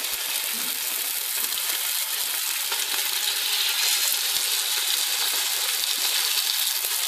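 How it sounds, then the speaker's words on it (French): Escalopes fry on a hot surface set over a household fireplace, giving a steady, dense sizzle and crackle that fills the whole clip at close range, with no talking. "on va les mettre dessus, et on va très rapidement voir. Ouh oui, pas de souci niveau température, j'ai l'impression que ça cuit bien."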